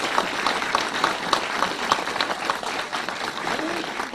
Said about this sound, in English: let's give them a round of applause and their families